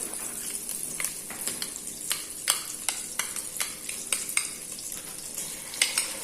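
Tomato paste sizzles and fries in a pan for Arabaşı soup, with a crisp steady crackle punctuated by repeated scraping strokes of a spoon stirring it, close and fairly quiet, no talk.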